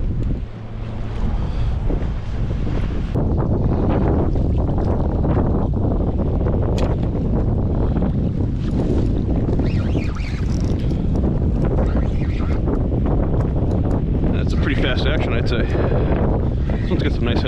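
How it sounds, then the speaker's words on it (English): Strong wind roars and buffets the microphone on a fishing boat out on open water in spring, a loud unbroken rush mixed with wave wash, with someone speaking now and then. "All right, they promised wind."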